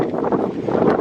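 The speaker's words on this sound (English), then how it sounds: "It's kind of windy out, so I apologize for the wind." Wind buffets the microphone outdoors with constant low rumbling gusts, loud and close, no voice heard.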